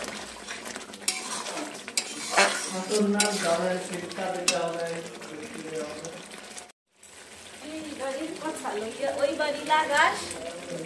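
Mutton being fried and stirred in spice masala in a pan, with scraping utensil clatter and a low sizzle, interrupted by a brief cut, while someone talks over the cooking.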